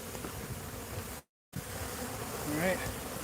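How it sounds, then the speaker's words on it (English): A large swarm of bees buzzes in an enclosed space, a close, dense, steady drone that breaks off for a moment and then returns, with a brief higher whine near the end. "There are a shitload of bees in here."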